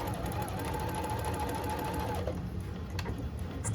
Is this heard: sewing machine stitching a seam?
yes